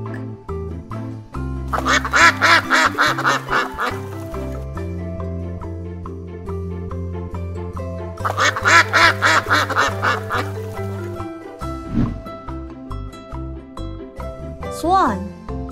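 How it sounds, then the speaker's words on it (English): Ducks quack in repeated bursts over a bright, continuous children's music backing, with two prominent clusters of loud quacking separated by quieter stretches. "Duck."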